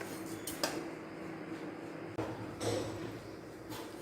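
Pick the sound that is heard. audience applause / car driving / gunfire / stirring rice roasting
stirring rice roasting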